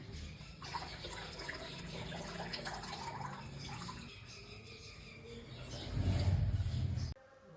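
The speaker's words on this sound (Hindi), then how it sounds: "नेचर की वॉइस इस टाइम पे बहुत ज़्यादा अच्छी आती है। बर्ड्स हैं, पानी है" Outdoor ambience near a temple at Khatu, with scattered bird chirps over flowing, trickling water, fairly faint and continuous, then a louder low rumble swelling near the end before it cuts off.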